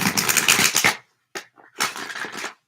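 A deck of playing cards is shuffled in two bursts of dense papery riffling and flutter, separated by a short pause with a couple of soft taps, close and fairly loud.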